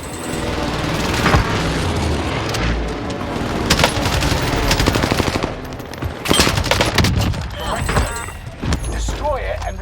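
A Call of Duty Warzone airstrike unleashes rapid, dense bursts of gunfire and booming explosions, a loud chaotic barrage that surges in waves with brief lulls, while voices talk over the combat.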